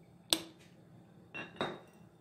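A jar of homemade Andhra mango pickle (avakaya) is opened after three days of resting, giving one sharp clink of lid against glass followed by two softer scraping and knocking sounds, close and fairly quiet.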